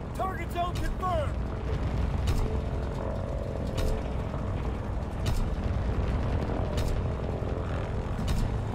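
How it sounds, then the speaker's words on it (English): A recon aircraft passes overhead in a wartime shooter video game, a continuous engine drone filling the scene while sharp bursts of gunfire and explosions break through at intervals. "Recon aircraft in your area."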